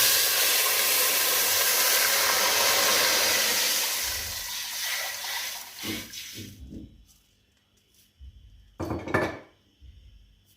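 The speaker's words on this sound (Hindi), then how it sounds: "अब मैं इसमें पानी डालूँगी।" Water pours and sizzles into a hot pot of browned cumin for several seconds, then fades to a few clinks and scrapes of a pan and utensil.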